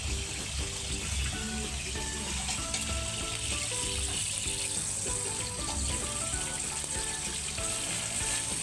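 Mussels with mustard boil in a pot, giving a steady bubbling sizzle with faint rhythmic clicking, under distant background music.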